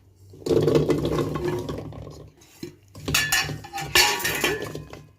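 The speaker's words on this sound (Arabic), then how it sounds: "هجيب حله بقى كده اهو، احط فيها البطاطا دي" A metal cooking pot is set down and handled while cubed sweet potatoes are dropped into it, giving bursts of clattering knocks and clinks, with a short pause before a busier second round of rattling.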